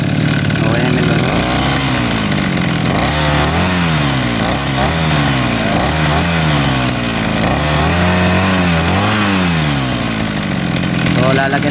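A Kawasaki TD40 brushcutter engine running close by, a buzzing two-stroke drone that revs up and down in repeated cycles, with a voice talking over it.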